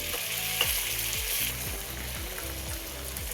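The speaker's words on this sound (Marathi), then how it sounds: "सगळं एकत्र हलवून घ्यायचंय" Tadka of ginger and Kashmiri red chilli powder sizzles hard in hot oil for Amritsari chole, with a spoon scraping and stirring through it in steady, repeated strokes, close and loud without any talk.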